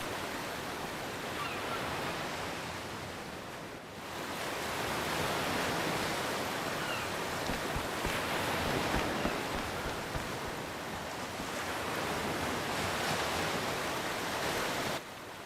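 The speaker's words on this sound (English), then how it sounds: "I hear waves." Ocean waves surge steadily in Octopath Traveler II, a continuous wash of surf that swells and eases in a few broad pulses, heard alone.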